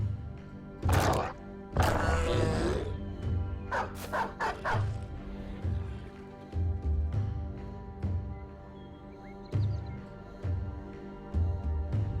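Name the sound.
dogs barking in video game Battle Brothers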